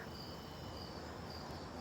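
Crickets chirp in a steady, continuous high-pitched trill outdoors, faint but unbroken over a low background hum.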